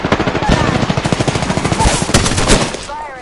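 Rapid automatic gunfire in Apex, a loud sustained burst of closely spaced shots that ends in a short tail, with possible voice chatter mixed underneath.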